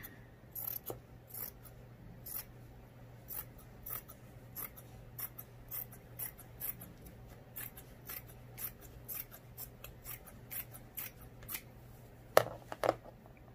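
Scissors cut steadily through a piece of flannel fabric in a quilting setting, a regular series of soft, close snips repeated over several seconds, with a couple of sharper clicks near the end and no talking.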